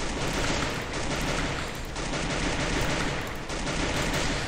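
Video game gunfire in a duo-versus-squad battle royale match: sustained rapid automatic shooting, loud and continuous with dense overlapping shots and no talk.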